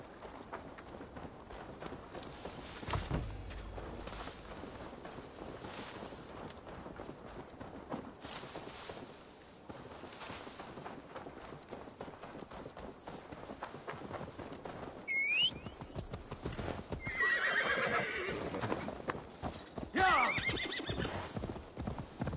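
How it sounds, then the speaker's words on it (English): Rhythmic hoofbeats clop steadily under a busy Assassin's Creed Valhalla game soundscape, with a horse whinnying loudly near the end, all without speech. "Now to deliver Magni his horse."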